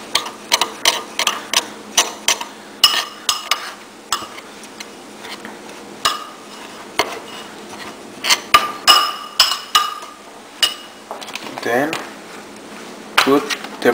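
Ingredients with Parmesan cheese are stirred and mixed in a bowl, giving irregular clinks and scrapes of a utensil against the dish, close and fairly loud, with a voice talking between them.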